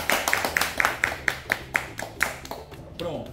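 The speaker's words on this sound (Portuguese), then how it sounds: "as salvas de palmas especiais" Around ten slow, evenly spaced claps ring out, close and fairly loud, like a rhythmic round of hands from a small group at a gathering, then fade out near the end.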